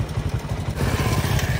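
A motorcycle engine rumbles close by on a village road, a steady mid-pitched putter that swells slightly as the bike goes past, with no one speaking.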